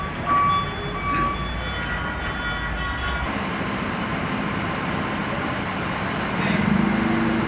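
An ALS intercity bus pulls into the Tangerang bus depot in the afternoon, a steady rumbling engine and road noise held throughout, rising slightly louder near the end.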